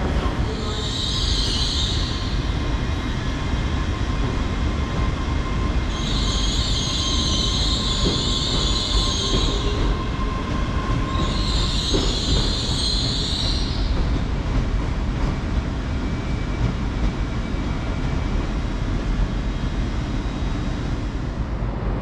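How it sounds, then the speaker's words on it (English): A Lumo Class 803 electric train, fresh from the depot and months of testing, rolls into a British station with a steady loud rumble of wheels and repeated high wheel squeals in the first half, no talk. "And here comes our train, not just arriving fresh from the depot but also from months of testing."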